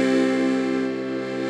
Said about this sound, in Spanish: Aunque el acorde lo pueden armar con do, mi y el la, que es la sexta mayor, y suena así